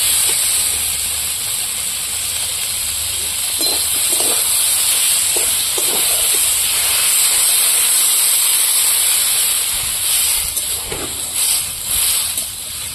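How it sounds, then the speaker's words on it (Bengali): Water poured into a hot pan of curry sets off a steady, close hiss and sizzle that holds for several seconds, with a few soft clinks near the end. "ভালো করে কষিয়ে নিয়েছি, এবার আমি জল ঢেলে দেবো।"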